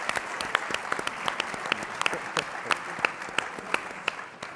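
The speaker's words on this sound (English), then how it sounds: "So a round of applause for all of our contestants here." Audience applause for the contestants at a competition judged by a panel, a steady rattle of many hands clapping with sharp individual claps standing out, moderately loud throughout.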